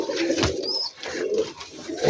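Rajshahi Giribaj pigeons cooing, several close low throaty calls repeating in uneven bursts with no talk over them.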